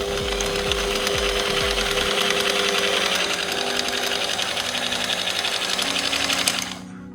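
A Sturm JS4170QS electric jigsaw runs loudly and steadily with a fast buzzing reciprocating whir for about seven seconds, then cuts off at the end, with no talk.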